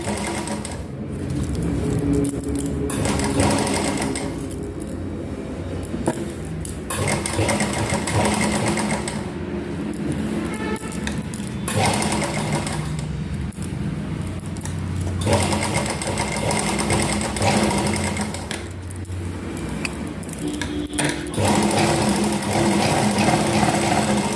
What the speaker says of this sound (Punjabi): ਸਲਾਈ ਨੂੰ ਬਿਲਕੁਲ ਬੁਕਰਮ ਦੇ ਨਾਲ ਨਾਲ ਸਲਾਈ ਲਗਾਣੀ ਹੈ